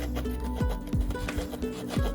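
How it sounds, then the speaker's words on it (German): Small cheap survival-kit knife from China sawing through a piece of wood, with repeated short rasping back-and-forth strokes in an uneven rhythm, fairly quiet and close, with no talking. "Ja, es sägt, aber ich sehe jetzt schon, wenn ich damit säge, weiter als das Stück hier komme ich sowieso nicht"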